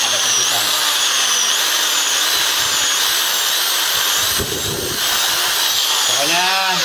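A handheld electric drill runs continuously and loudly while its carbon brushes are checked for sparking. A high whine rises and wavers against a low motor rumble, with brief speech in the middle.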